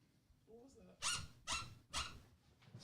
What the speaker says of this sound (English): Squeaking.